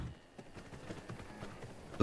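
A horse in the video game V Rising clip-clops on a farm, soft irregular hoof taps at moderate distance over a low ambient bed, no talking.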